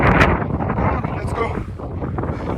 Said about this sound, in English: It is so windy that she has to stop in between.